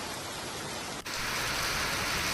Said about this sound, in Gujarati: તો હાલોલ તાલુકામાં વરસાદી માહોલ